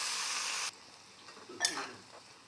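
Taro pieces go into a hot pan with chopped tomato; a loud steady sizzle drops to a soft frying hiss, with a short stirring scrape midway.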